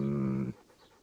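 A dog in the medieval video game Kingdom Come: Deliverance pants in a short steady burst of breathy huffs that stops abruptly, followed by quiet.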